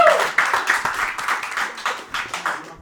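Applause from the audience at a stand-up comedy show, a crowd clapping steadily and loudly in a dense burst that swells and fades in waves, close by with no talk over it.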